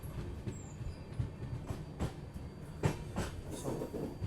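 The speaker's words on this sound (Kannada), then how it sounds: "2 ನಿಮಿಷ ಸ್ಟಾಪ್ ಆದ್ಮೇಲೆ ಡಿಪಾರ್ಟ್ ಆದ್ವಿ ನಾವೀಗ ಪೆನುಕೊಂಡದಿಂದ" Karnataka Express passenger train rolling along a single-line section after leaving Penukonda station, with a steady low rumble and periodic clacks of wheels over rail joints, heard from inside the coach.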